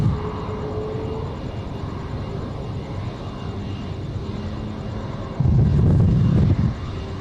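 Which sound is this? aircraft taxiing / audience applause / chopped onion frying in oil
aircraft taxiing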